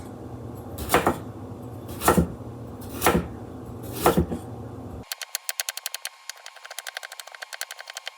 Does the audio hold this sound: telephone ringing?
no